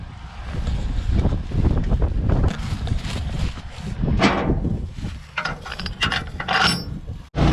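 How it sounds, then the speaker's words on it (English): Grain auger being shifted during a barley harvest, giving a continuous loud mechanical clanking and ratcheting with metallic rattles and some wind buffeting on the microphone, with no talk. "Now we've got to move the auger to finish filling the load."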